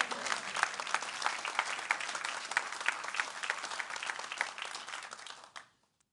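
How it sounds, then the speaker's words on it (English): Conference audience at a corporate alumni event giving a sustained round of applause, many hands clapping steadily for about five seconds before stopping abruptly into silence. "I think that deserves a round of applause."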